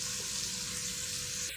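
Finely chopped cabbage goes into a pan of frying onions for an egg and cabbage stuffed wheat dosa, giving a steady loud hiss and sizzle that fills the whole moment, with no talk.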